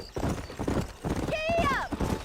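Hooves clip-clop in Red Dead Redemption as a horse sets off, quick rhythmic beats under a man's speech, with a sharp whinny rising near the end.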